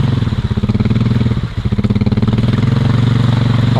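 A Honda motorcycle modified to run on ten wheels idles loudly up close, its engine throbbing in a rapid, steady pulse with a brief dip midway before settling back.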